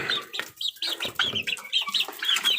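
Young gamecock stags clucking and chirping in quick, overlapping bursts, close and fairly loud, with no talk over them.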